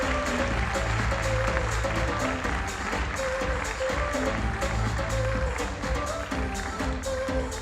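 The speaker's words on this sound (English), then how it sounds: "Please come to the stage, and big applause for Karin as" Seminar audience applauding at a Bayer inauguration event on Campus Solna: steady, dense clapping that fills the room at an even loudness throughout, with a faint tonal layer underneath.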